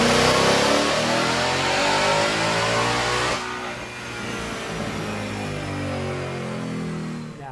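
A Ford performance car on a dyno revs hard with a loud, sustained engine roar that drops slightly in pitch and intensity partway through, then holds a steady high-rpm drone to the end.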